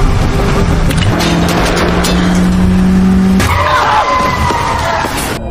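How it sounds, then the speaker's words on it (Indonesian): Car chase scene from a 2025 film as a car overturns under gunfire: loud, close tire squeal and skidding with a roaring engine, then a sudden shift to grinding, scraping noise, with no voices. "Mobil yang ia bawa terbalik akibat ditembaki."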